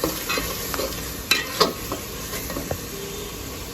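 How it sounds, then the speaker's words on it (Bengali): Coriander and cumin powder frying in a pan for beef bhuna, a close sizzle under brisk stirring with a few sharp utensil knocks against the pan. "জিরা গুঁড়া একটু দিয়ে আমি ভালো করে কষিয়ে নিচ্ছি।"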